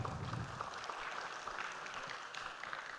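Faint, distant applause from a conference audience, a soft steady patter of many hands clapping that continues for the full few seconds.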